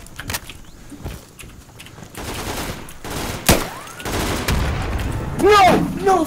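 Gunfire rattles through an Insurgency firefight, with scattered sharp shots and bursts at varying distances, a loud close crack midway, and a voice shouting over the chaos.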